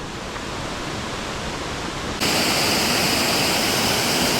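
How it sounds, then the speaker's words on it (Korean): Waterfall in Eolgol valley in summer, running full with plenty of water: a steady, loud broadband rush of falling water, with the roar growing noticeably stronger and brighter about halfway through as if drawing nearer. "폭포가 좋네요"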